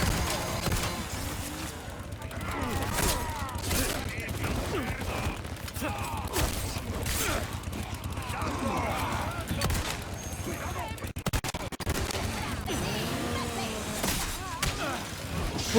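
Burst gunfire in the video game Resident Evil 4 Remake, with rapid volleys and thuds in a dense, loud game soundscape, continuing under players talking.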